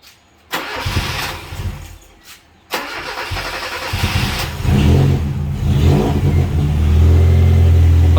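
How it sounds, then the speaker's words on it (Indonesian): A used car engine cranks with a couple of short starter bursts, catches, then idles and revs up loudly through a racing exhaust, the rumble growing heavier and sustained toward the end. "Coba kita nyalakan aja ya untuk mesinnya."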